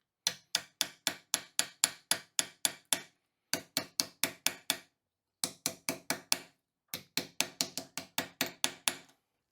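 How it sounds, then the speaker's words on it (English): A hammer striking copper flattened from a pipe, forming it into a small bowl or ring dish. Sharp, ringing metallic blows land close and loud in quick regular bursts of about six to eight hits, separated by brief pauses. "I'm still trying to hammer where there's empty space underneath it because I'm still trying to form it down."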